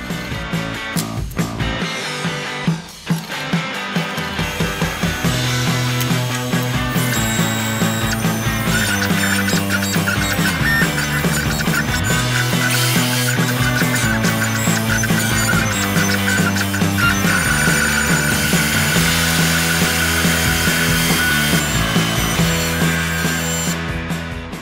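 A CNC router with a single-flute router bit cutting wood, producing a loud, continuous high-pitched whine with shifting tones as the cut progresses, a brief thump early on, and no talking.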